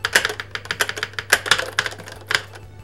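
Rapid, uneven clacking keystrokes from a Nintendo computer keyboard, close and crisp, in a quick burst with no talking.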